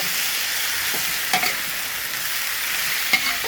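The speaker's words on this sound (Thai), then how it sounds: "อันนี้เราใส่น้ำลงไปหน่อยๆนะครับ เพื่อจะได้ไม่แห้ง" Chinese kale stems stir-fry with salted fish in a wok after a splash of water, giving a soft steady sizzle broken by a couple of sharp spatula taps; no talking.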